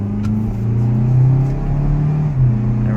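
A 2016 Mazda CX-3 engine revs and drops in pitch as it shifts up a gear, a loud, close rumble that climbs again afterward.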